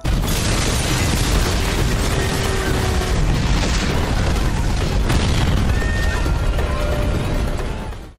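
A bus explodes in a scene from the American series Lie to Me, a loud, sustained roaring blast with crashing debris that fills the whole stretch before cutting off abruptly.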